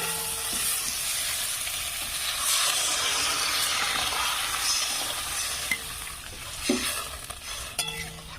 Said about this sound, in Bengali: মশলাটা খুব সুন্দর করে, সবজি মশলা সব ভালো করে খুব সুন্দর কষা হয়ে গেছে। এবার এখানে আমি জল দিয়ে দেবো।